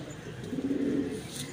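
A Ferozepuri breed pigeon gives a single low, close cooing call, alone over quiet background hiss.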